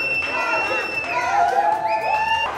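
Brazil football fans cheer during the 2018 World Cup, a lively crowd roar with shrill whistle-like horn tones rising and sliding over it, loud and continuous for the whole span.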